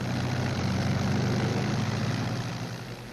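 WWII P-38 and Mustang fighter aircraft engines produce a steady, droning propeller roar that holds level throughout and eases slightly toward the end, with no voices.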